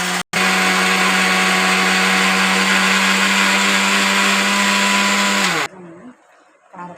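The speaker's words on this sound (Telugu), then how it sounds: "ఇప్పుడు మిక్సీ" A mixer grinder runs at full speed, grinding idli karam podi with garlic and salt: a loud, steady whirring motor hum for about five and a half seconds after a brief start, then cutting off abruptly into quiet.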